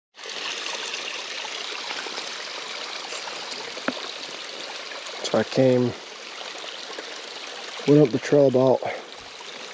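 A stream flows down in a wooded valley below a trail, giving a steady rushing wash of water throughout while someone talks briefly over it partway through.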